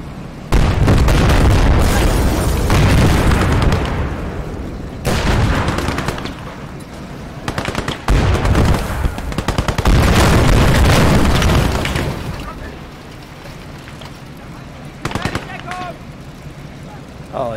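Tank battle in Call to Arms: Gates of Hell, with US Sherman tanks facing German tanks: loud, heavy shell blasts and booming gunfire in long dense bursts, broken by short pauses and followed by a quieter stretch with a few isolated pops.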